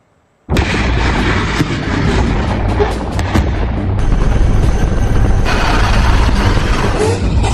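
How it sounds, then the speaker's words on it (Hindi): BrahMos missile launched at sea from the Indian Navy warship INS Imphal: a sudden loud blast that swells into a sustained, roaring, rumbling rush lasting several seconds, with no talking. "आईएनएस इम्फाल से पहली बार ब्रह्मोस मिसाइल लॉन्च करके नौसेना ने ताकत की एक नई मिसाल पेश की है।"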